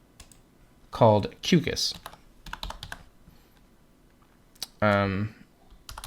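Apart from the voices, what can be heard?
typing a folder name on a computer keyboard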